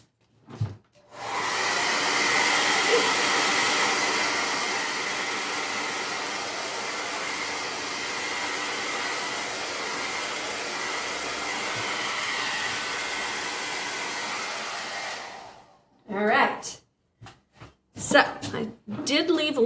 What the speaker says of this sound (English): I'm going to the blow dryer for a second.